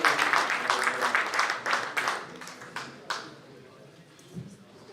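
A mushaira audience applauds as a poet is welcomed, a burst of clapping that thins and fades out over a few seconds, leaving near-silence with a faint sound at the end.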